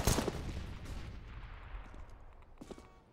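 Gunfire in a Counter-Strike match on de_train: a loud burst of rapid shots at the start, a fading noisy tail, then a second shorter volley near the end.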